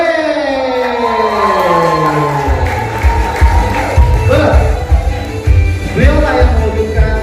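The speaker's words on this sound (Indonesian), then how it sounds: "mari kita beri tepuk tangan yang sangat meriah" At a press conference, a rising and falling siren-like swoosh gives way to a thumping musical beat, while a loud crowd cheers and whoops over it.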